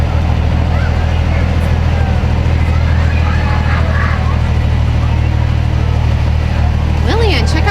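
A large 24-hour wrecker tow truck idles nearby with a steady, loud low rumble that fills the whole stretch, while faint chirps and squeaky sounds float above it near the end.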